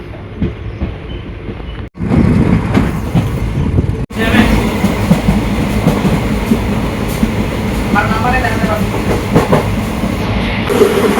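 A train rumbles steadily along the tracks with rhythmic clatter, loud and close, broken by two brief dropouts early on, with faint voices in the background.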